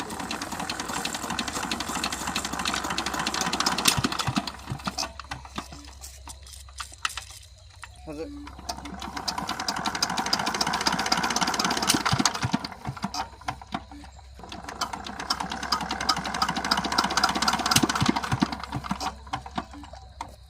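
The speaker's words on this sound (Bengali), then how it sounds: "আর এক্ষুনি দেখো মেশিন স্টার্ট করে দেবে" A shallow tube-well irrigation pump engine runs with a steady mechanical chugging and rattle, swelling in three long loud stretches with brief lulls between, close by and mostly alone.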